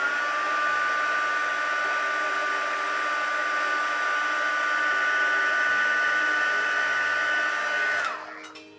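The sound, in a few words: hair dryer heat-setting face paint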